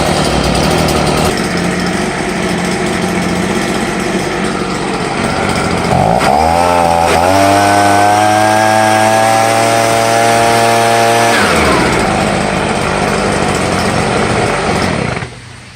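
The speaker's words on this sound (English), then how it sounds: "Let it idle like this for about a minute, and you're ready to work." Stihl BG 85 handheld leaf blower engine idling after a choke start, a loud steady two-stroke drone close to the listener that briefly rises in pitch and settles before cutting off at the end.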